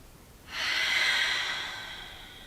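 A single long, slow breath is drawn and released during a relaxation exercise, an airy close whoosh that rises quickly and fades gradually.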